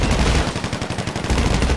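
Rapid gunfire in a video game during a purge event, a dense loud burst of fast repeated shots filling the whole moment without pause.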